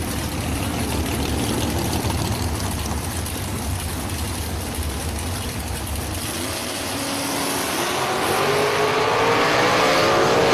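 Drag race at a strip, a matched pair of cars including a chromed entry, engines rumbling steadily at mid distance and building louder toward the end as the run unfolds, with no voices over the engine noise.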